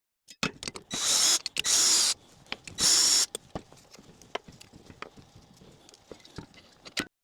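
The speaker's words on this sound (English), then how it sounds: "With a 10mm socket, we'll take off the bolts that connect the combustion chambers to the heat exchanger." Bolts being loosened with a 10mm socket wrench from the combustion chamber of an Autoterm Air 2D diesel heater, heard as rapid clicking ratchet bursts and sharp metallic ticks close by with no talk.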